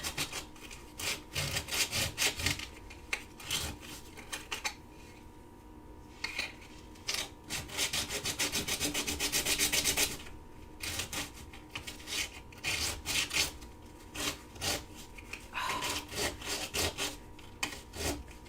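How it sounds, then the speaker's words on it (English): Scrap metal pieces being worked with a hand file, giving repeated rasping strokes in bursts with short pauses and one longer continuous run, close and moderately loud, with no talking. "filing flat pieces is not fun or easy"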